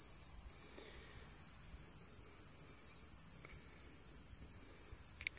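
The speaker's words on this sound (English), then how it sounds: "You can hear the crickets." Crickets chirp in a steady, high-pitched continuous trill, soft and unbroken, with a quiet outdoor background and no voices.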